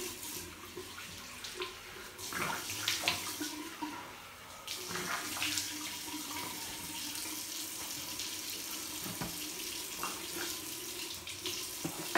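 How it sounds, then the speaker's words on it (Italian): Water from a sink tap splashes as a face is rinsed before a traditional shave, with irregular close splashes and trickles over running water, fairly quiet and with no speech. "Ci sciacquiamo il viso"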